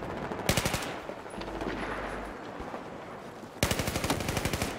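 Battlefield 4 machine gun fire crackles in two rapid automatic bursts, one at the start and one near the end, with a quieter stretch of distant game ambience between them.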